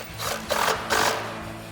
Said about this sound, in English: So now we'll tighten down our main bolt with our 13 mil socket on our impact.